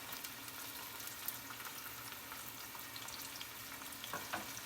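Chicken fries in a pan of oil, a steady close sizzle with fine crackles and soft bubbling spread evenly throughout, with no voices.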